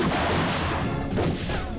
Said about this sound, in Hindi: यहाँ चारों तरफ गोलियां चल रही हैं